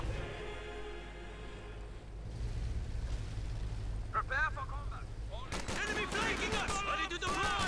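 Rattling bursts of machine-gun fire, including an MG34, mix with booming artillery and explosions in a Company of Heroes 2 battle, continuous and loud, while a commentator talks over the action.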